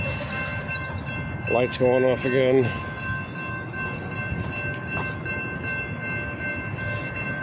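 A train passes near a building, with a loud rumble, repeated horn blasts early on, and a steady mechanical drone with tonal squeal afterward. Someone talks over it.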